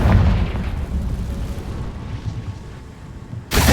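A Confringo blasting spell explodes in the Hogwarts Legacy video game, a loud deep boom with a rumbling tail that slowly fades, then a fresh burst of noise at the very end.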